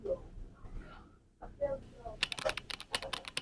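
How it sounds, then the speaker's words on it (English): A prompt being typed on a computer keyboard: quick, light key clicks in an irregular burst that picks up toward the end, following a stretch of soft talking. "Now let me type this prompt"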